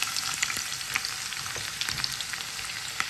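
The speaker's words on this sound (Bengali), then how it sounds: "শুকনো মরিচটা একটুখানি ভেজে নিয়ে আমি দিয়ে দিব হচ্ছে রসুন কুচি" Whole dried chilies and chopped garlic fry in hot oil with a steady, dense sizzle and occasional sharper crackles and pops, close and alone without any voices.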